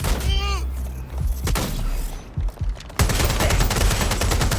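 Rapid bursts of gunfire and heavy booms in the video game Watch Dogs: Legion, loud and continuous with overlapping shots and shouting voices over the fight.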